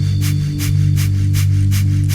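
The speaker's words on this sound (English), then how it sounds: "The second breathing style is breath of fire" Breath of fire breathing: quick, forced exhales through the nose come in a steady rhythm of about five sharp, close bursts over a low background hum.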